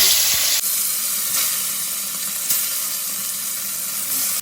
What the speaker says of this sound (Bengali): এবার আমি আবার বাদ বাকি মাছগুলো এইভাবেই ভেজে নেব